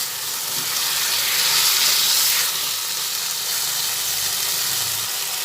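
Potol (pointed gourd) and chhana being stirred together in hot spiced oil in a pan, giving a steady close sizzle and hiss that swells briefly in the middle, with no talk.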